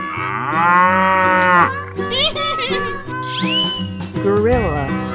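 A cow moos in a 3D animal slide game: a long, loud, drawn-out moo up front, followed by squeaky whistle-like effects, all over a continuous low backing tune.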